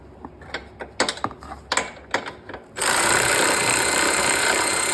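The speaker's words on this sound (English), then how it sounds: "I'm just going to use my ratchet there, put a just a wrench on the backside" A hand ratchet loosens a control arm bolt on a 2006 BMW 325xi, giving a quick run of sharp, close clicking strokes before a steady, loud broadband rush takes over for the rest of the clip.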